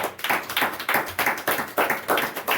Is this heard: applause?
yes